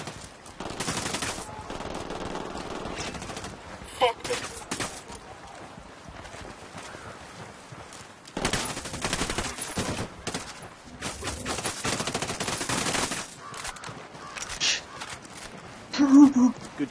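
Bursts of automatic gunfire and scattered shots in the Tom Clancy's Ghost Recon video game, coming in several clusters of heavy firing with quieter gaps, with players talking over parts of it.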